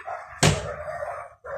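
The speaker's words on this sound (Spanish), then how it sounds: "perdonad por el ruido de los perros" Dogs barking indoors near a person at home, with a loud sharp bark over a sustained howling, yelping tone and another bark starting at the end.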